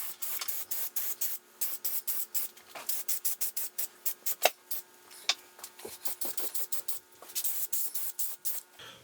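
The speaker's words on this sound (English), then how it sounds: "I'm going to go ahead and put a coat of this Rust-Oleum 2x, which is a paint and primer, on the bottom of the project" Rust-Oleum 2x paint and primer sprayed from an aerosol can in a rapid series of short hissing bursts, close and fairly quiet, with brief pauses between passes.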